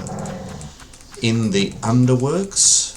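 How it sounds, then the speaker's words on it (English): A man's pet dogs whine and growl in close, drawn-out bursts, first low and then louder, as he talks over a video game. "sorry about my dogs"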